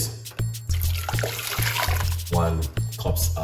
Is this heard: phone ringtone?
no